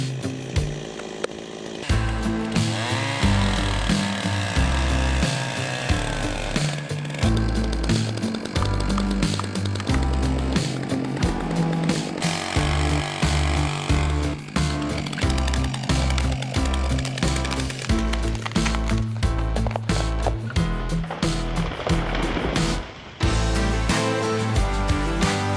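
A chainsaw makes the back cut to fell a large tree on a hillside, roaring loud and close with repeated revving surges and dips as it bites into the wood, continuous throughout.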